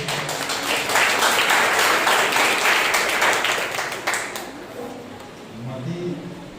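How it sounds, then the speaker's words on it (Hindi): A church congregation claps together during a Sunday morning service, a dense sustained patter of many hands for about four seconds that then thins out and fades as voices and room sound carry on. "आइए हम लोग बात तालियां परमेश्वर के लिए बजाते हैं।"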